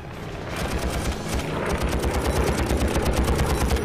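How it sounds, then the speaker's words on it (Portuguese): Machine gun fire from a P-51 fighter plane shooting at an ME-109, a dense continuous burst of rapid rounds that stays loud and close for the whole stretch, with no talking. "Com habilidade, Archer acerta a mira e dispara."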